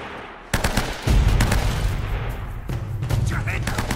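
Video game gunfire from Uncharted: Drake's Fortune erupts in rapid bursts of automatic shots and heavy thumps, loud and close, with shouting voices mixed in over the firefight.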